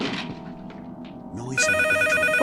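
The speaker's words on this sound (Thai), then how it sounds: "โทรศัพท์ดัง" A telephone rings in the horror video game IMPETUM, its bell trilling in loud, sustained bursts that start partway through and continue to the end, over a dim, murky game ambience.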